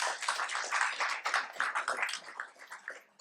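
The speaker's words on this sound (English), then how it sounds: "Give him a round of applause," Applause from a lecture audience welcoming a scientist to the stage, a dense patter of many hands clapping steadily at moderate volume, then tapering off toward the end.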